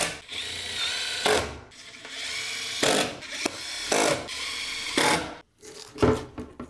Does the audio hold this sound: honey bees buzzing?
no